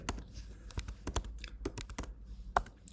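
Quick, uneven keystrokes on a computer keyboard, close and fairly quiet, a burst of a dozen or so taps with short pauses between them and no talking.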